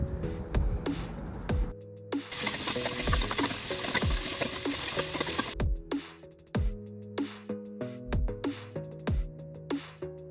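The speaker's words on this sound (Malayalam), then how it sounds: "കൂടെ തന്നെ ഒരു ബീട്രൂട്ട് കട്ട് ചെയ്തതും ബീൻസും ക്യാരറ്റും പിന്നെ കോളിഫ്ലവറുമാണ് ഞാനിവിടെ ഇട്ട് കൊടുക്കുന്നത്" Potato, beetroot, beans, carrot and cauliflower fry in a hot pan, a dense sizzle broken by repeated close stirring knocks and scrapes in an uneven rhythm, loud and without talk.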